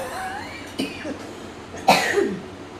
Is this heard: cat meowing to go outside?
no